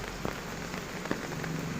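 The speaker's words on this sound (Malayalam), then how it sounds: "മഴയുണ്ട് കേട്ടോ" Steady rain falls around a house and yard, a dense, even patter on surfaces that holds close and constant throughout, with a few slightly sharper drop hits.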